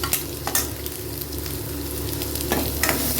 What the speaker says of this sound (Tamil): இது நல்லா வெங்காயம் பூண்டு எல்லாம் நல்லா வதங்கிட்டு